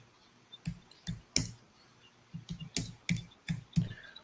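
Keys tapped on a computer keyboard, about a dozen sharp clicks in irregular bursts with short pauses between them, close and clear against a quiet room.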